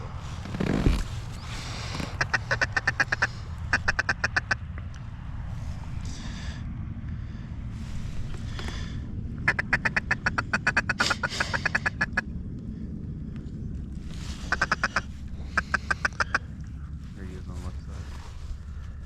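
Ducks quack in repeated short bursts during a waterfowl hunt in stormy weather, moderately near, with hunters talking quietly over a steady low rumble of wind and water.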